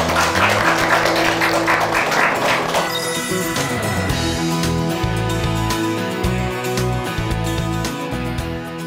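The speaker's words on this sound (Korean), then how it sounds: "박수로 그럼 모셔보겠습니다" Audience applause welcoming two teacher guests onto a stage at a university unification-education talk, a loud burst of clapping over the first few seconds that gives way to upbeat background music.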